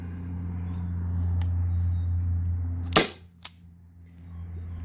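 Byrna SD CO2 launcher firing a single aluminum round, one sharp close pop followed shortly by a fainter click, over a steady low electrical hum.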